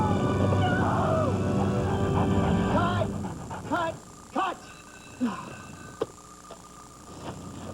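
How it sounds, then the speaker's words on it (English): A dog whimpers and cries in a television commercial aired during an MLS Cup 2000 soccer broadcast. A few short, rising whines and yelps follow a dense stretch of background sound, fairly close and moderately loud. "The dog is supposed to cry."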